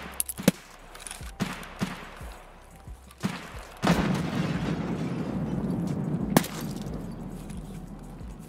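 A heavy blast in the shooter game Escape from Tarkov, a sharp close boom followed by a long rumbling tail, set among scattered distant gunshots and other impacts.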